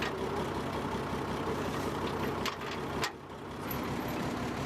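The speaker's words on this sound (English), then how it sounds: "A truck carrying a heavy load of logs has gotten stuck driving up from the pontoon" A heavily loaded logging truck stuck on the climb up from a river pontoon, its diesel engine droning and labouring steadily with a brief dip in power, loud and continuous with no talk.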